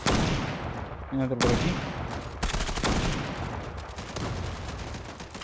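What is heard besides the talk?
gunfire from the video game Zula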